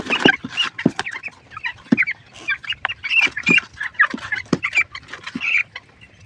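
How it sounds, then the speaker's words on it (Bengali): Fourteen-day-old broiler chickens raised on sand bedding in the rainy season cluck and peep busily close by, a dense stream of short overlapping calls with no talking. "মোটামুটি 5 পিস মুরগি ধরেছি, এর মধ্যে তোমরা দেখে নাও।"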